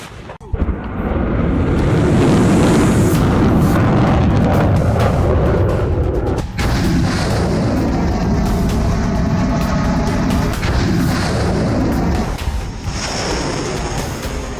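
Heavy 2S7 Pion self-propelled artillery gun firing, a loud sustained roar of blasts and rumbling booms with sharp cracks, continuous and close throughout.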